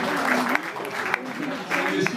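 Audience applause at a classic car rally gathering at a château in the Aude, France, in 2022, heard beneath someone speaking over it, with scattered sharper claps across two seconds.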